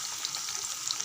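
Crushed garlic and curry leaves sauté in a hot pan with a steady, bright sizzle and faint crackling throughout, close by and continuous with no voices.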